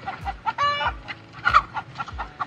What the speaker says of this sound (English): See? Chickens.